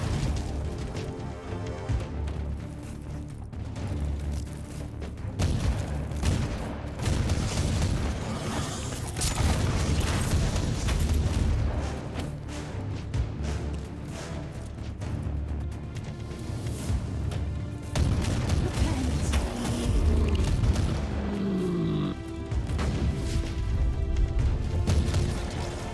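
Explosions and gunfire from the Warhammer 40,000 game Inquisitor Prophecy, with booms, crashes and rapid bursts that layer into a loud, nearly continuous barrage for the whole stretch.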